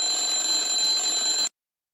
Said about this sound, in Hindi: और फिर वही अगली सुबह अलार्म